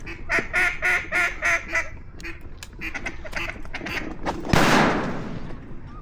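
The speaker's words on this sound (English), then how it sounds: "Big duck on the right." Ducks quack in a rapid series of loud, nasal calls on public land during an Arkansas duck hunt, followed by a sharp, close gunshot that dies away.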